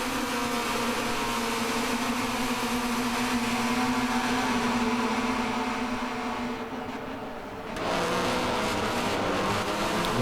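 Race cars from the Red Bull X2014 Junior video game roar steadily throughout, a sustained engine drone with passing revs that dips briefly near the end before surging back, loud and continuous with no talk.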